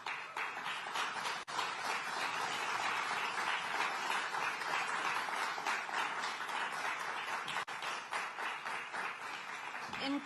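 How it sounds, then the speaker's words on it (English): An audience at a rare diseases event gives sustained applause, steady and dense for about ten seconds at moderate distance. "A big round of applause, please"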